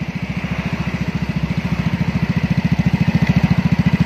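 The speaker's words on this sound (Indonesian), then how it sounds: "braille dan ini suara langsamnya" A Yamaha Mio Gear 125 scooter fitted with an SKR racing exhaust idles close by, giving a steady, deep pulsing thump in an even rhythm that climbs slightly in loudness, heard alone.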